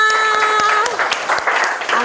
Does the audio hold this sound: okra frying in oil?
no